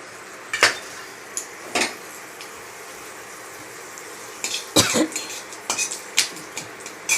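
Nigella seeds and a dried red chili stirred in a hot wok: sharp metal spatula clinks and scrapes against the pan in scattered bursts, close and fairly loud over a quiet kitchen background.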